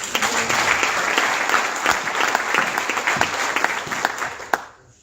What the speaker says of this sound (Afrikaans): Kan ons ons mense regte hande klap gee?